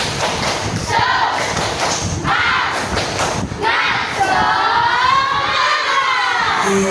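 A classroom of Indonesian schoolchildren doing the rhythmic 'tepuk semangat' spirit clap, rapid patterned claps and thumps with children chanting and shouting along, loud and close, with a teacher's voice mixed in.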